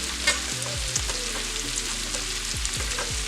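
New Orleans pasta ingredients, including pre-cooked crab, sizzle in a hot pan while being stirred, a steady close frying hiss broken by the scrape and clink of the spoon against the pan.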